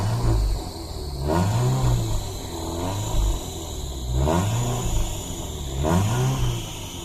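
A 2005 Mitsubishi Lancer 1300cc petrol engine revs up and down in three strong surges, the pitch rising and falling each time, loud and close with no talking.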